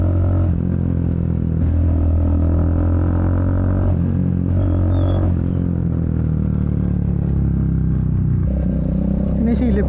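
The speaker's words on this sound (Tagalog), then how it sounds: "Pasensya na po sa ingay ng motor ko" A Triumph Speed 400 motorcycle engine runs nearby at shifting revs, its steady drone rising and falling while a person talks over it in Filipino.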